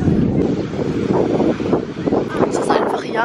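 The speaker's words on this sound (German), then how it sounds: "schaut mal, da vorne ist das Meer" Wind and ocean surf at a seashore in Auckland, New Zealand, a loud, steady rush of wind buffeting the microphone over the wash of waves, with a voice talking through it.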